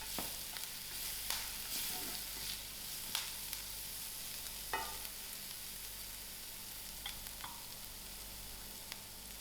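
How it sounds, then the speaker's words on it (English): Slightly browned onions with thyme sizzle steadily in a pan, with scattered scrapes and soft clinks as a spoon stirs them; the frying hiss stays continuous and close, with no talking. "My onions are gone slightly brown, so I'm just going to add in my thyme to it. Also give this a mix."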